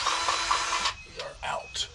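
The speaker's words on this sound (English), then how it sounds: "Almost sounds like we're out of grease." A grease gun sputters and spits in short irregular bursts as it runs dry while greasing a 2021 Kubota BX23S, with broadband hissing at first, then choppy intermittent pops.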